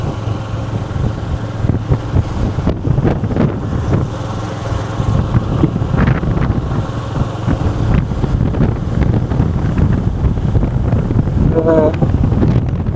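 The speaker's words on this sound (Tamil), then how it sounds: "கடல் இருக்கிறதால காத்து வந்து சரியான மாதிரி வேகம் அடிச்சு கொண்டிருக்கு" Strong sea wind buffets the microphone on the coast beside Jaffna Fort, a steady loud roar with gusty bursts throughout, and a voice speaks briefly under it.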